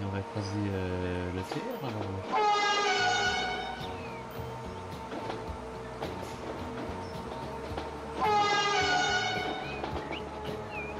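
In the Transport Fever 2 game, a train pulls into Sion station with a rumbling rolling drone, two long rising-then-falling horn or whistle tones sounding a few seconds apart, fairly loud and close, with no one speaking.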